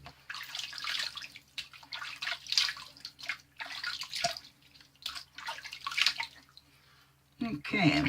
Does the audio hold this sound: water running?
yes